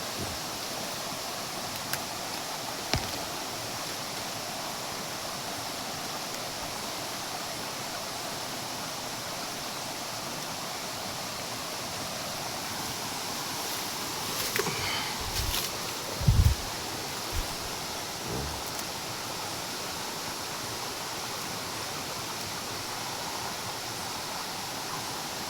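A waterfall in Indonesian mountains gives a steady, even rush of falling water, constant and fairly distant, with a few faint knocks and rustles partway through and no voices.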